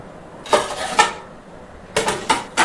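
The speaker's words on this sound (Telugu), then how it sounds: "సరే మూత పెట్టేసి ఒక 5 నిమిషాలు చూద్దామండి." A metal lid clinks against a pot of chicken curry in several sharp, close clangs. Two are spaced apart early and a quicker cluster comes near the end, with no speech.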